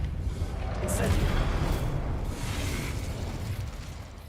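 A fire spell is cast in a Harry Potter video game, giving a loud, sustained whooshing burst with a booming low rumble that lasts several seconds, while a voice talks over it.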